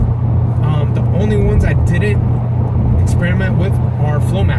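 A 1996 Chevy Impala SS with an LT1 V8 and Pypes Race Pro mufflers idles with a steady deep exhaust rumble, heard up close under someone talking over it.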